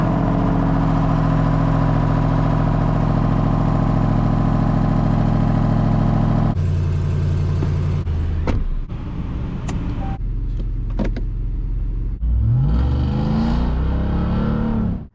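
A Ram TRX pickup engine with a modified exhaust drones loudly at a steady rumble, then breaks into choppy revs and a rising, surging roar near the end.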